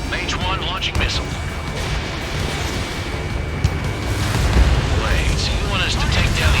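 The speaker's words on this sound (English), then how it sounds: "Mage 1 launching missile." Missile launch from a fighter jet in Ace Combat 7, a loud rushing roar with booming bursts over continuous engine noise, with radio-style voices talking over it.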